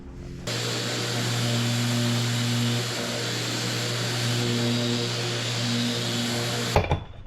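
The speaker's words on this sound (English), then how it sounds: "How about some sanding? There's lots of sanding to do." A power sander sanding a boat whines steadily and loudly for several seconds, a constant buzzing drone that stops abruptly near the end.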